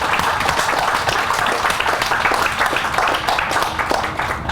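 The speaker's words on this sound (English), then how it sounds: "A round of applause." A round of applause breaks out at a Wichita city news conference on a veterans' free-ride service, dense steady clapping from a room of people that holds even and fairly loud, then eases slightly at the end.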